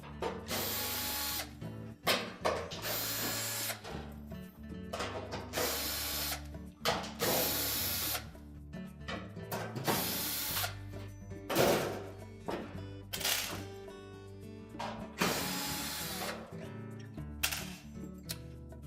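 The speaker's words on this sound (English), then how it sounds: "We'll continue to take the rest of the screws out of the back panel, so you'll see what we're doing." A power driver backs screws out of the rear panel of a Frigidaire oven or range, repeated whirring and ratcheting bursts at close range with short pauses between them, and no speech.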